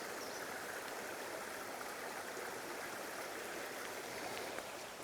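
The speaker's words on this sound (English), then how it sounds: "we found some running water." A woodland stream in Shenandoah National Park runs in a steady, close, broadband rush with gurgling water throughout, unbroken by any voices.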